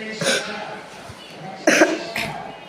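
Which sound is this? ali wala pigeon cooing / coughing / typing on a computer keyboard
coughing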